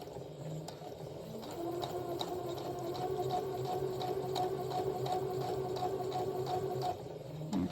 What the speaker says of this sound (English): we are just going to sew until right before this needle